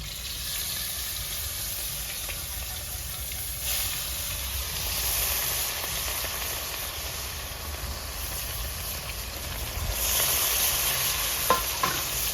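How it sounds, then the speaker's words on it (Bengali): Steady, close sizzling of rohu fish frying in hot oil, a continuous crackling hiss with no talking and a few sharper pops near the end. "বন্ধুরা তেল গরম হয়ে গেছে মাছটা ভেজে নেবো"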